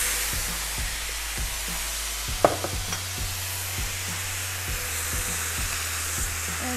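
Mutton hot pot ingredients sizzle and fry in a hot pan, a steady hiss broken by repeated scraping strokes of a spatula, with one sharper clack partway through.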